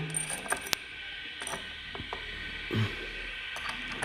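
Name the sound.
opening the metal trigger guard of a Diana Outlaw air rifle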